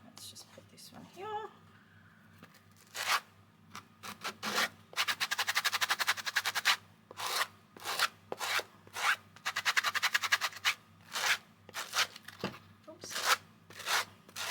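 Sanding block rubbing over a fabric quilt block to distress it, with bursts of dry, raspy scrubbing strokes in an uneven rhythm, close and fairly quiet, and a soft voice speaking between the strokes.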